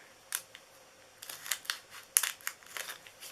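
Scissors snip through a paper treat bag in several short, crisp cuts with papery crinkles between them, close and fairly quiet with no talking.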